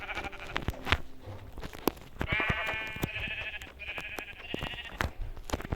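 A sheep bleats several times outdoors, drawn-out wavering calls close by, mixed with scattered clicks and knocks.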